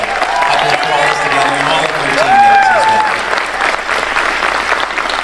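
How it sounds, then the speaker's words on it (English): A conference audience in Orlando gives a round of applause, a steady wash of clapping that swells in the middle while a voice talks over it. "Could you give Dr. Stacy and Brent a nice round of applause for that?"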